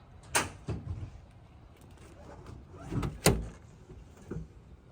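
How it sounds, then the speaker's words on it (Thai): The door of a 2016 Toyota Hilux Revo 2.4 pickup opens with a couple of close clicks and latch thuds, followed by a soft clunk, fairly quiet overall. "นี่เปิดประตูได้กว้างๆแบบนี้เลย"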